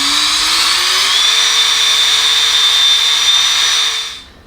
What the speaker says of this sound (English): now it's time to start polishing this lens